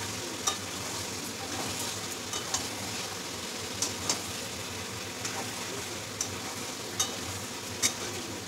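Marinated chicken fries in spiced oil with a continuous sizzle, punctuated by regular clicks and scrapes as a utensil stirs it in the pan.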